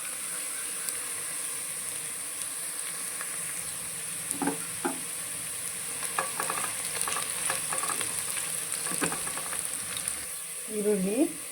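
Onions frying with garam masala, tomato, green chilli, coriander and mint in a pan for chicken biryani, a continuous moderate sizzle broken by several sharp stirring scrapes and clinks, with no talk.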